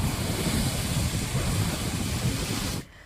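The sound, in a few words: high sea waves crashing on a stormy sea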